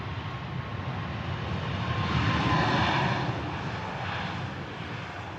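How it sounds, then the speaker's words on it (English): A Ryanair jet airliner departs Manchester Airport bound for Milan, a steady broadband engine roar swelling slightly toward the middle and holding throughout, fairly distant and alone with no voices. "that Ryanair on the way out to Milan"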